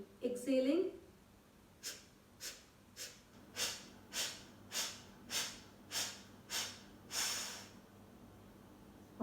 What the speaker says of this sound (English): active exhalation, forceful exhalation from your nose